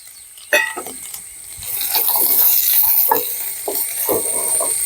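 Tomato, green chilli, ginger and garlic sauté in a pan for an egg curry, giving a soft sizzle with a sharp clack of a utensil early on and several scraping stirs.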